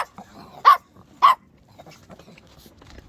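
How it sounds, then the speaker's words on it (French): Two loud, close barks from a small pinscher dog ring out about half a second apart, followed by quiet room noise and faint movement. "Si, elle aboie de temps en temps."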